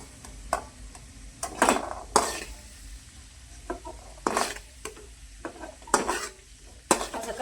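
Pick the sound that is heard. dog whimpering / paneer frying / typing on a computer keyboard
paneer frying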